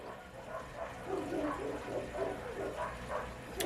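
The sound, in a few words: dogs barking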